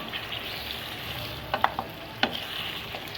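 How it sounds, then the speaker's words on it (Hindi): Meat frying in oil with ginger garlic paste for a korma, a quiet steady sizzle broken by a few sharp scrapes and clinks of a spoon against the pot. "और इसको फ्राई करेंगे जब तक गोश्त का कलर चेंज नहीं हो जाता।"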